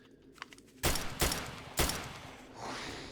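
Pistol fire in the zombie survival game 7 Days to Die during a horde night: three loud, sharp gunshots spaced under a second apart, each with a short decaying tail, followed by a softer rushing noise.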